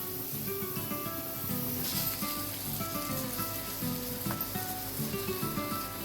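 Ground masala paste sizzling and frying steadily in a pan while making paneer butter masala, a continuous crackling hiss with occasional stirring, moderately loud and close.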